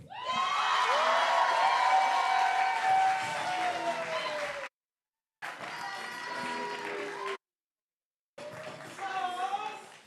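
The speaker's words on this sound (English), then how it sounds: "please give a warm round of applause" A teen poetry slam audience at a Youth Speaks semifinal applauds and cheers its first poet, with loud clapping, whoops and shouting voices, broken twice by abrupt silent gaps.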